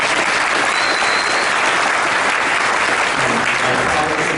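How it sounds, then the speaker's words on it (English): Sustained audience applause at an MBA professor award acceptance speech, a dense, steady wash of many hands clapping together for the full stretch, loud and even with no voices rising above it. "He really deserves your applause."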